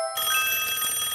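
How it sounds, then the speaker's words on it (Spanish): A cartoon telephone rings with a bright, continuous metallic bell trill that starts abruptly after a split second of silence and holds steady, loud and alone. "El teléfono."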